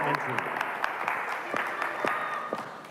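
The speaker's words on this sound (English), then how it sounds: "you keep cheering for her until she leaves the stage" An audience at an innovation night event applauds and cheers for a presenter from the Fine Arts Studio, dense clapping continuing throughout with voices mixed in.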